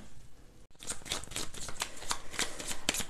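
Oracle cards are shuffled and handled up close, a quick run of soft riffling and sliding flicks after a brief pause, with no talking.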